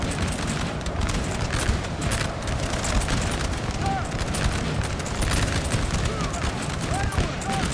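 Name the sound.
musket volleys from video game Napoleon Total War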